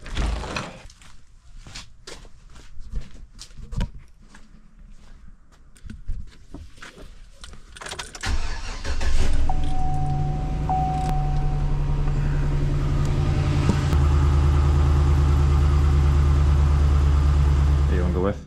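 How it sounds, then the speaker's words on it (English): Pickup truck engine cranking and catching partway through, then settling into a steady, loud low idle after scattered knocks, clatter and talk in the first half. "So we're gonna have to just go buy some scooters and just fire up the truck."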